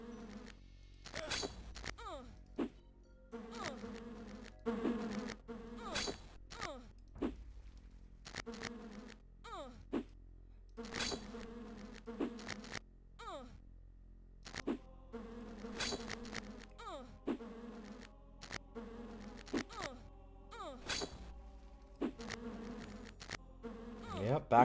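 Loud, droning insect-swarm buzzing from the DOS game Lands of Lore, pulsing in repeated waves with sharp bursts and chirps layered on top, and no talking.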